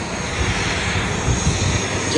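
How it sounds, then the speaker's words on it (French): Steady, loud broadband roar of an airplane engine heard from inside the cabin on a flight to Marseille, continuous with no breaks and faint cabin murmur underneath. "Dans l'avion, direction Marseille."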